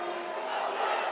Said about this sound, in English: A big crowd under the lights